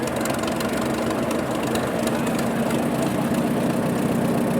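A heavy old vintage tractor engine runs steadily at a farm machinery show, a loud, continuous, rough low rumble with a chugging texture and no voices.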